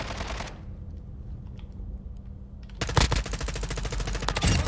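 M4 assault rifle gunfire in Call of Duty: Modern Warfare 2 on PS5, a loud rapid automatic burst at the start, then a quieter pause before another sustained, rattling volley of close shots.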